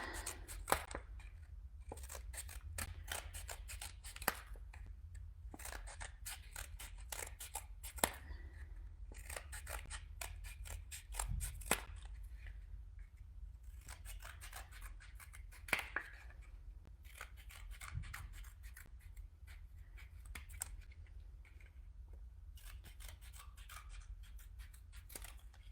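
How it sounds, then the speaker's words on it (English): Scissors snipping through cardboard while making winter ornaments, a close, quiet series of crisp cuts and rustles repeating steadily at an unhurried pace with no talking. "ASMR of cardboard being cut."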